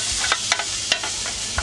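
Onions and garlic soften in butter in a pot with a gentle, steady sizzle, broken by several light scraping stirs at irregular intervals, close by and with no talk.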